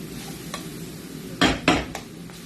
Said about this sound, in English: Put 1 tablespoon of butter and scrape all this niceness underneath the pot.